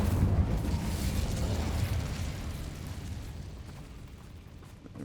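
A blast from the Incendio fire spell in the Hogwarts Legacy video game, a loud whooshing burst of flame that rumbles at first and then slowly fades away.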